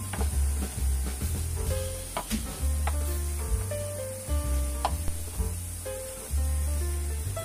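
Garlic, ginger and green chillies fry in hot oil for a fish pickle as chilli powder goes in, a steady close sizzle with stirring and clinks of a spoon against the pan running throughout.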